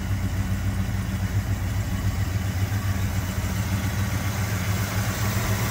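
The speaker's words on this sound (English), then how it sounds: "She fires right up, has a nice smooth idle" A 1972 Pontiac GTO Judge V8 idles steadily and smoothly, a deep, even rumble with a low throb that holds constant throughout, close by with no talking.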